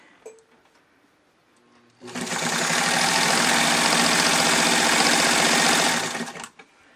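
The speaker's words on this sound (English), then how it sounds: "Well, it stitched it, and it stitched it using the walking foot." Singer sewing machine with a walking foot, Singer 185K, 66 or 99, stitching in one steady loud whirring run of about four seconds after quiet handling sounds.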